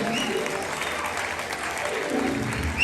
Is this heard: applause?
yes